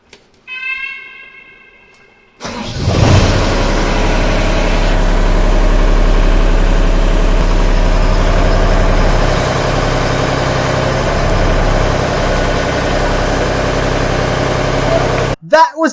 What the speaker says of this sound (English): Let's try out the cherry picker.